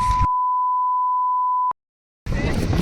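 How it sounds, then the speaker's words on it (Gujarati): A steady, loud censor beep tone holds for over a second between brief bursts of talking, then cuts off abruptly. "આ થોડુંક મારે બીપ મૂકવી પડશે"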